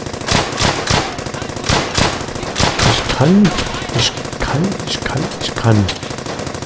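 Rapid machine-gun bursts and scattered rifle shots ring out in a World War II battle in Brothers in Arms: Hell's Highway, loud and continuous, with someone speaking briefly over the gunfire.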